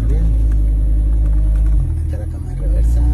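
A Lamborghini Gallardo with a semi-automatic gearbox rumbles at idle in a workshop, a loud, deep, steady engine drone that dips briefly and returns, while people talk nearby.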